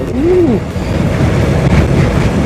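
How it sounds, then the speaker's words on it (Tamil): Strong sea wind roars steadily against the microphone on the coast road near Pamban bridge on the way to Dhanushkodi, a constant loud buffeting rush with a faint surf-like wash underneath and no talk. "சரியான காத்தடிக்குது, இங்கே பாருங்களேன்."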